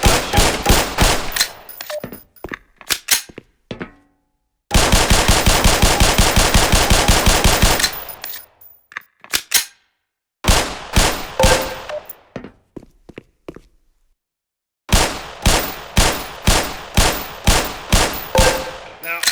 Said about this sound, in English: Put 7 rounds in the center ring of each target.